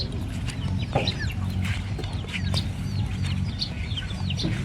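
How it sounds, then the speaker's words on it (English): Chickens cluck in a tropical outdoor setting in Koh Samui, Thailand, with a steady run of short clucks and chirps over a low ambient hum, with no talking. "That's my chicken."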